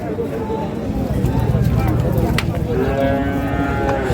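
Bull cattle, medium-sized and about 14 to 15 months old, moo at a busy cattle market. Several low calls are heard close by over steady crowd murmur, with people talking nearby.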